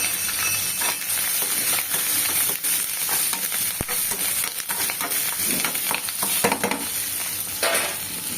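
Curry leaves frying in hot oil in a pan, making a steady close sizzle and crackle with a few stirring clinks throughout, and no voices.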